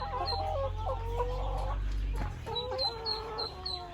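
Hybrid laying hens cluck in repeated quick bursts, close by, with a low rumble underneath and a brief pause midway.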